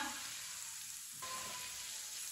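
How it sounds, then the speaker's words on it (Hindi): Ground spices (salt, red chili powder, turmeric and garam masala) fry on low heat in a pan for an omelette, a faint, steady sizzle with a slight stir partway through. "1 मिनट के लिए पका लेंगे मसालों को।"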